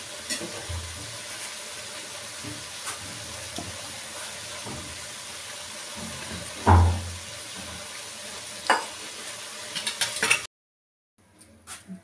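Water pours quietly into a cooking pot of goat-head curry with bones, a soft continuous trickling and sizzle, with a couple of louder clunks before the sound cuts off near the end.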